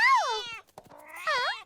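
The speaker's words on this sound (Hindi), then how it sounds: "ये बिल्ली ऐसे नहीं मानेगी" A cartoon cat meows twice, loud and close: a long drawn-out wail that falls in pitch, a short gap with faint rustles, then a second rising-and-falling meow.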